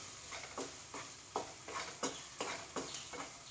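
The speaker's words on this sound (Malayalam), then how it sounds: "വെളിച്ചെണ്ണയില് ചേർന്നിട്ട് ഈ ഉള്ളി മൂക്കുമ്പോ എന്തൊരു മണ വരുന്നത്." Onions frying in coconut oil for a pappadam curry, a soft sizzle broken by repeated scraping stirs of a spoon, about one every half second, quiet and close.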